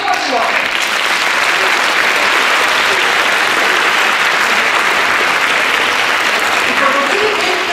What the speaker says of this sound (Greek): Παρακαλώ, ένα ζεστό χειροκρότημα